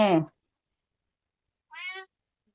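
A house cat meows twice in a quiet home, one fuller call at the start and a shorter, higher meow after a pause, fairly close and alone.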